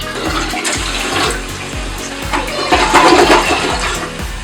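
A toilet flushes, freshly sealed with a rubber seal after the tank and water line were reinstalled, giving a loud, close rush of swirling water that runs steadily throughout with no talking.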